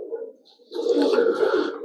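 Pigeons cooing at a pigeon club in Xırdalan, with soft throaty coos that swell into a fuller, overlapping chorus close by.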